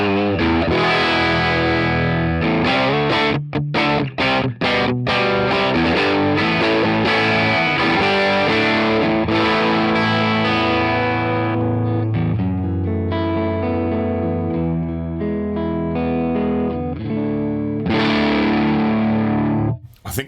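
Heavily distorted electric guitar through a JS Dragon Plexi high-gain amp model, chugging chords and sustained ringing notes with brief stops, loud and saturated throughout.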